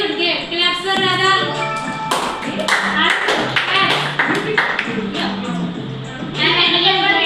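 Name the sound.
clapping for a quiz winner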